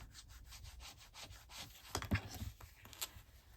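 Folded cardstock for a sticky notes holder gets burnished with a tool, soft rhythmic rubbing strokes back and forth, faint and close, with a few firmer scrapes midway.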